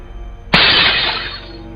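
A glass of water smashes after sliding across a counter: a single sharp, loud shattering crash that sprays into a bright tinkling decay of glass fragments.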